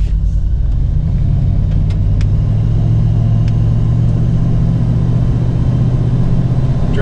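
A 1987 Ford Bronco with 70K miles drives down the road, its engine a loud, steady low rumble with road and wind noise throughout, and no talking.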